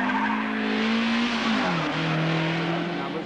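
Avenger saloon race cars at Cadwell Park circuit roar past, with a loud, continuous engine drone whose pitch slides down as they go by.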